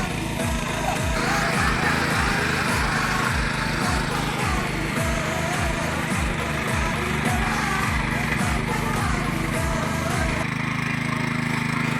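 A tractor engine churns through muddy water in a paddy field during rice transplanting, its steady mechanical drone pulsing rhythmically up close, with voices over it.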